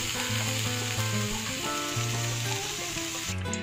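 Vegetables for a chutney sauté in oil in a pan, giving a steady, close sizzle that runs through the whole stretch with no pauses and no voices.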